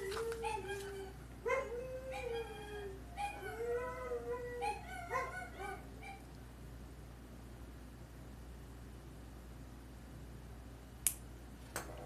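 A dog whines and whimpers in a run of high, wavering yelps and short howls over several seconds, then falls quiet against a low background hum.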